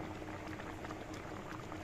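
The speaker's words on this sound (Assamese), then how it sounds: "এতিয়া উতলিব দিম ভালদৰে" Hog plum curry boiling in a pot, a soft continuous bubbling and hissing simmer, faint and steady with no voices.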